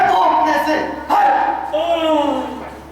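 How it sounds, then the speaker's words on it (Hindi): A dog barks in a few yelping, rising bursts amid a stage play's dialogue, with voices talking over and around the barks throughout. "कहीं कहीं कुत्ते भौंकने से"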